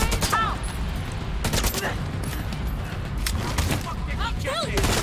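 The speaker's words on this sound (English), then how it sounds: "Grenade out!" Heavy gunfire and explosive booms in The Division 2 merge into a continuous, loud roar, with rapid shots and blasts piling up under shouting voices.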